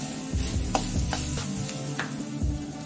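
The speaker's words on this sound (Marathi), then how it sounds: "ओलं खोबरं गूळ चांगलं मिक्स करून घेते" Fresh grated coconut and jaggery stirred in melted ghee in a pan for ukadiche modak filling, a steady soft sizzle under repeated scraping strokes of a spoon, close and continuous with no talk.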